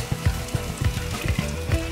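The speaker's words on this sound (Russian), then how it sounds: "Рис нам нужно слегка обжарить вот в этой массе, да? Луково-чесночно-винно-масляный." Risotto rice fries in a mixture of onion, garlic, wine and butter, a steady sizzle with rhythmic scraping stirs recurring about every quarter second, close and alone.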